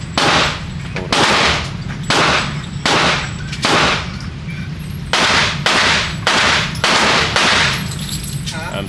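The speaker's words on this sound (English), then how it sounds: "I'm shooting the left target." Gunshots fired at shooting targets by two shooters, one on the left target and one on the right: about eleven loud, sharp reports spaced roughly a second apart, some in quick pairs, over a steady low background rumble.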